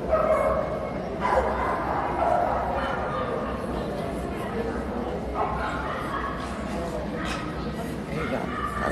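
Keeshond puppies yip and bark in scattered high bursts and whimpers over steady room chatter, with people talking nearby throughout.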